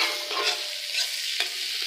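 Food sizzles and frys in a pan on a wood-fired clay stove while being stirred, a brief close crackling hiss with scraping strokes and no talking.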